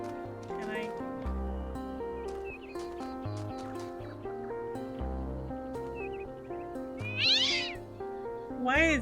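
A cat in the video game Talos Principle 2 meows repeatedly among steady game music, with a louder, rising yowl near the end; a person talks over parts of it.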